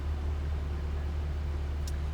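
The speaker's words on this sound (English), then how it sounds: "The sound of that engine." A 2-liter supercharged car engine drones steadily at low pitch, heard from inside the vehicle, with a brief faint high chirp near the end.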